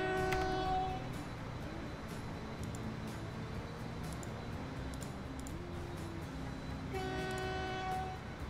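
A train in the Transport Fever game rumbles steadily for the whole stretch, with horn-like sustained tones sounding at the start and again near the end, loud and close with no talk.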